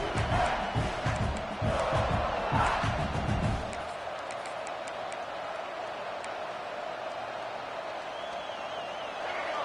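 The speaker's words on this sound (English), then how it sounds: "This crowd, full throat, splitting the eardrums and letting them know it's going to be a long day" Video game stadium crowd at a college football game, a loud full-throated roar with rhythmic chanting bursts for the first few seconds, then dropping to a lower sustained hum of noise.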